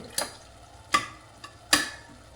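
Chickpeas and halved potatoes roast in a pan under steady stirring, with three or four sharp scraping clacks at irregular intervals over a faint low sizzle, close and without talk.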